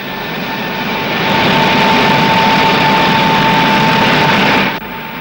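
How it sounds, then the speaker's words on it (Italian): A loud, continuous roar of a jet engine in a test cell, reaching about 150 decibels, with a steady high whine, swelling slightly and then easing near the end. "Nelle celle di prova il rombo raggiunge un'intensità di 150 decibel."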